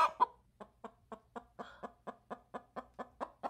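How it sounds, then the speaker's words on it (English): A chicken clucks in a steady run of about a dozen short, evenly spaced clucks, close and clear with no other sounds. "A chicken makes that sound."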